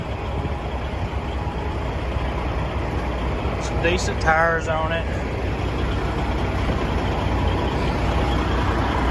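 An old white Volvo truck, its grille held on with a bungee cord, idles with a steady low rumble at night while someone talks over it.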